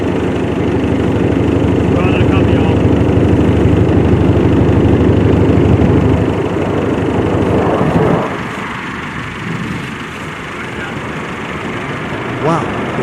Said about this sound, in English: a C-130 airplane lands in the desert while spreading sand everywhere